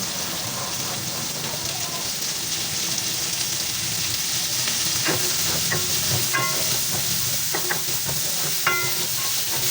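Mixed vegetables with carrots, garlic and onion are stirred in a hot pan for guisado, giving a steady sizzling hiss with scattered scraping clinks of the utensil against the pan.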